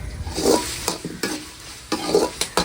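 Tomatoes sauté in a hot pan, with a soft continuous sizzle under repeated scraping stirs from a spoon, close and fairly loud, and no talking.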